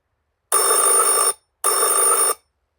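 A telephone rings loudly and close with two electronic bell-like bursts, each lasting under a second, separated by a short silence, with no talk.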